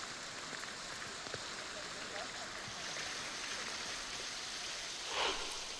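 Heavy rain falls in Navsari, Gujarat as a steady, faint, even hiss of water that continues throughout, with a brief swell near the end.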